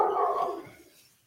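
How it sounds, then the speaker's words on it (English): Dogs barking in the neighborhood, a single fairly close bark that fades quickly, with no talking. "All those dogs."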